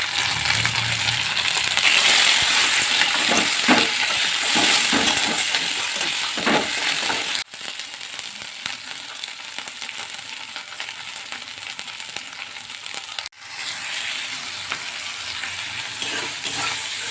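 Chicken sautéing in a pan with spices, ginger, garlic and green chili, giving a steady loud sizzle with scraping stirs and occasional clinks of a spatula against the pan.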